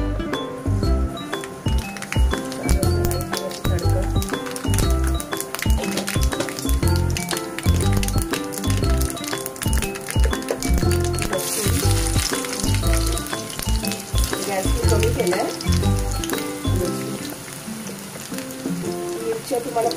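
Mustard seeds and cumin sizzle in hot oil in a kadhai, a steady loud frying crackle with rhythmic clinks and someone talking throughout.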